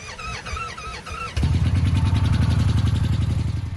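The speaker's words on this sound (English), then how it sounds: "A 2014 Indian Chief, a beast of a road bike." A 2014 Indian Chief motorcycle engine fires up after a few seconds of musical tones, settling into a loud, throbbing, rhythmic idle close to the microphone.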